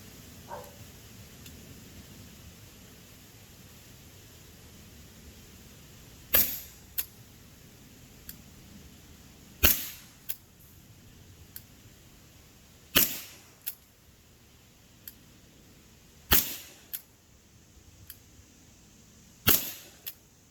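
Crosman Triple Threat air revolver with a 3-inch barrel firing six sharp, loud shots spaced roughly three seconds apart, each crack followed by a brief metallic click, over a quiet background.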